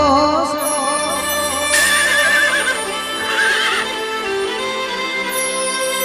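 A horse lets out a loud, drawn-out whinny that rises and falls twice. Hooves clip-clop underneath it, and there is no talking.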